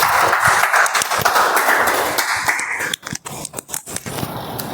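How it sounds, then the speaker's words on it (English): An audience at a Toastmasters speech meeting claps as a seasoned speaker comes onto the stage, dense close applause that thins out into scattered individual claps before stopping. "I would like to call a seasoned Toastmaster onto the stage with a huge round of applause"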